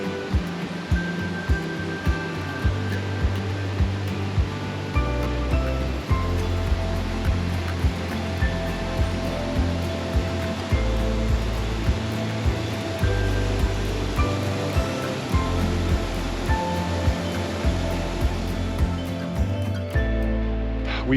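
Rushing water from Calypso Cascades in Wild Basin, Rocky Mountain National Park, spills heavily over the trail, a loud, constant roaring wash close by with steady turbulent texture throughout.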